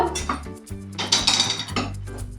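A metal kadai is set down on a lit gas stove, clanking and scraping against the burner grate in a few close, loud knocks and rattles, without speech.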